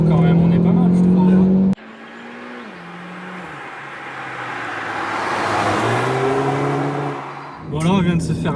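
Audi A1 1.4 TFSI 185 hp hatchback driven hard through a series of corners, heard from inside as a steady engine drone that rises and falls in pitch with gear and throttle changes, with a voice talking at the start and end.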